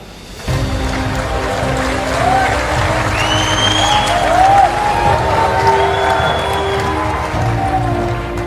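A large audience at a church gathering breaks into sustained clapping and cheering that swells and carries on, loud and reverberant, with scattered shouts and whoops over the applause.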